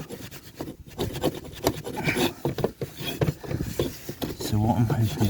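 A metal chisel scrapes harshly against rough chimney masonry in a corner, close up, in uneven, grinding strokes.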